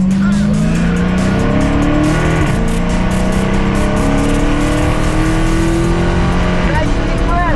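A car engine accelerates through rising gear pulls, loud and close, with tire squeal and a voice talking over it.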